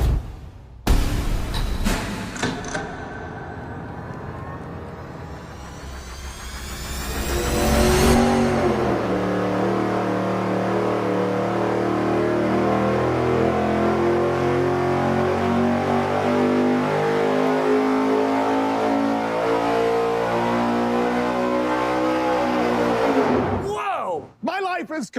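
A V8 engine fitted with dual quad carburetors on a tunnel ram intake, flowing 2,000 CFM, cranks, catches and roars on an engine dyno, sweeping up through a long, loud sustained pull before cutting off abruptly.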